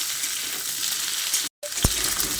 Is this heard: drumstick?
yes